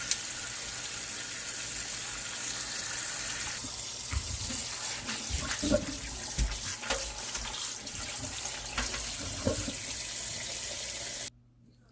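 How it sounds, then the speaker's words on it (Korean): Cold tap water runs steadily into a sink, with splashing and clinks as parboiled webfoot octopus is rinsed under the stream, ending abruptly. "찬물에 한번 헹궈야죠"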